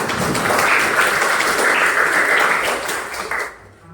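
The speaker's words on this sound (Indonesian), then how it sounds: "Tepuk tangan untuk kelompok 3" A classroom of students claps for a group that just finished presenting: steady, dense applause that fills the room for about three and a half seconds, then fades out quickly.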